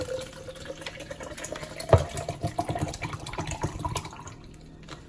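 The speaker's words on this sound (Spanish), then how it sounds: "Le pongo agüita" Water pours into a pot of potato soup in a short, steady splashing stream, close and moderately loud, with a few drips and gurgles as it settles.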